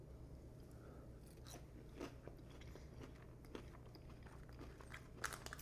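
Onion rings from Burger King being bitten and chewed up close, with a few faint, quiet crunches over a steady low background hum.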